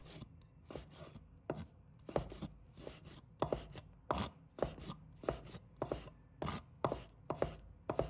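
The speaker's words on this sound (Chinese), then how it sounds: "放在案板上，把香菇切成小块" Soaked shiitake mushrooms chopped into small pieces on a cutting board, a steady run of close, crisp knife strikes landing roughly every half second with no talking.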